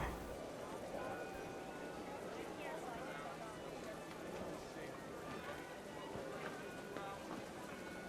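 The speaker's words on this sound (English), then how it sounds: "The rain came down in buckets then, but no one seemed afraid that nature might destroy the tent" Heavy rain pours steadily in What Remains of Edith Finch, a dense continuous hiss drumming on a wedding tent, with some speech faintly mixed in throughout.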